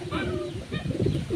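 Pet pigeons coo nearby in soft, rounded phrases, two or three throaty bursts repeating with short gaps, fairly close and moderately quiet.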